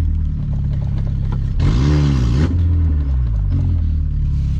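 Fiat Palio engine with a broken, jammed gearbox, idling then surging into one loud, rough rev of about a second that rises and falls before settling back into a low clattering idle.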